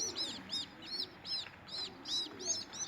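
Baby pigeons, squabs, cooing and chirping nearby, a steady run of short high peeping calls repeating about twice a second over a soft low murmur, with no talk.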